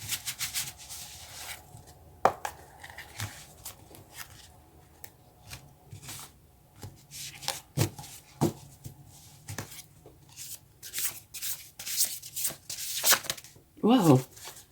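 Tarot cards being shuffled by hand during a reading, with a long run of soft riffling, sliding and tapping at close range and a voice speaking briefly near the end.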